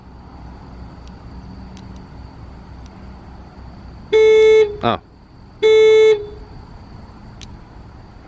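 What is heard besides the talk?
car horn from key fob alarm button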